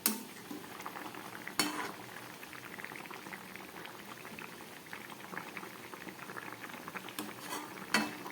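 Fish curry with potato and pointed gourd simmering in a covered pot on low gas, a quiet steady bubbling with soft occasional clinks of utensil against the pot.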